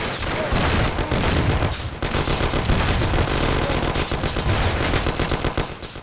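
Bursts of automatic gunfire from a 1930s gangster shootout in Mafia: The City of Lost Heaven, dense rapid machine-gun rattle with overlapping shots that barely pauses, loud and close.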